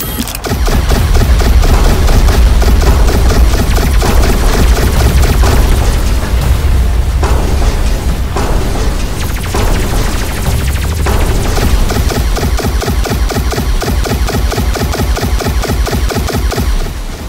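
Sustained loud gunfire and booming blasts fill a car chase scene, a continuous dense barrage with rumbling low explosions under rapid repeated shots throughout.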